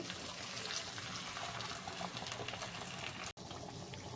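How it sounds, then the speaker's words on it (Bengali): Spinach paste simmering in a pan with ginger and green chilli paste, a soft continuous bubbling and hiss, quiet and close with no talk. "পালং শাকের পেস্টটা দেওয়ার পরে আমি 3-4 মিনিট মতো রেখেছিলাম, এখন ফুটতেও শুরু করেছে"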